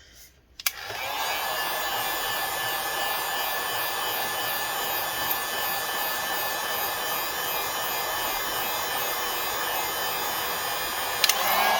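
A heat gun blows steadily on an ASUS Zenbook UX461U laptop touchscreen during disassembly, a constant loud airy roar that starts abruptly after a click and runs unbroken, with a faint click near the end.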